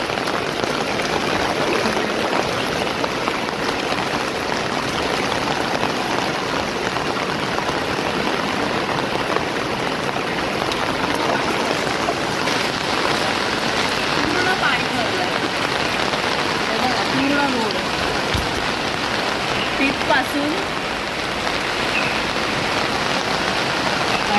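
Heavy monsoon downpour floods a housing society, a steady dense roar of rain striking surfaces that runs unbroken and loud, with faint voices now and then beneath it.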